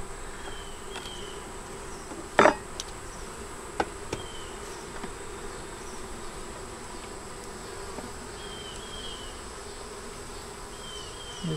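Bees drone steadily around an open double-deep five-frame hive with a super, a faint continuous buzz with occasional single bees passing close, and one sharp tap partway through.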